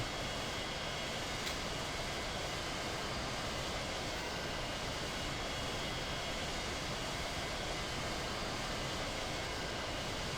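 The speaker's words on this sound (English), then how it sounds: "I have both engines running, yes I do." Twin aircraft engines running in Flight Simulator X, a dense continuous drone with a steady rumble and hiss that holds level and unbroken throughout, with no talking.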